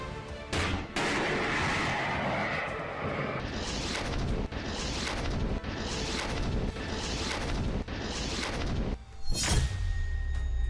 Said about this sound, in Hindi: यह हिंदुस्तान की फायर एंड फॉरगेट यानी दागो और भूल जाओ man portable anti tank guided missile है।